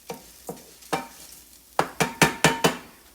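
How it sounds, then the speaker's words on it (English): Risotto rice toasting in a hot pan, crackling and sizzling as it is stirred, with a string of sharp scraping pops that come faster and louder toward the end, close and without talk. "So my risotto is almost toasted as I want it to be."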